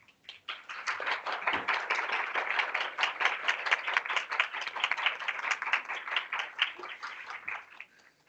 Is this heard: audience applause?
yes